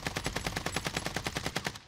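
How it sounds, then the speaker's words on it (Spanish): Rapid automatic gunfire in the shooter game Warzone Pacific on the Caldera map, a steady rattling burst of evenly spaced shots at moderate distance, about a dozen rounds in under two seconds. "los tiros vienen de allí"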